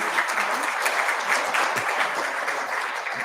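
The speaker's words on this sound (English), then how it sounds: "I would like just to give applause to our panelists." Audience at a civil society and think tank forum panel in Podgorica applauding the panelists, dense sustained clapping from a full room, steady and fairly loud throughout.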